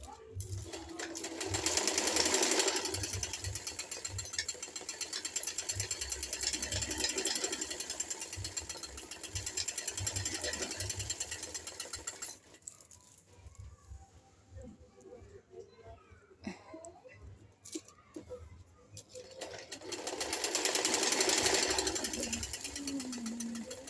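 A sewing machine stitches a suit in fast rattling bursts, loud at the start and end with a quieter pause in the middle, while a voice talks over it.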